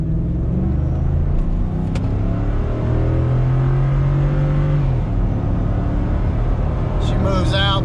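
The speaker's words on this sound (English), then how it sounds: "Give it a little gas." Ford F150 truck, rebuilt from a bare frame, accelerating on a road in Mexico: a loud, steady engine rumble rising in pitch as it pulls away, with a voice talking over it.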